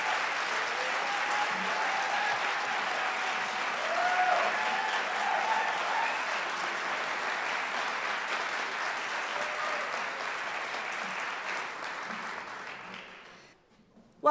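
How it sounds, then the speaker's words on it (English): An audience at a school event claps in a sustained round of applause, steady and full for about thirteen seconds before fading out. "I think these guys need another round of applause."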